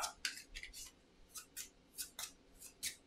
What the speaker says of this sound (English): So we shuffle this deck up.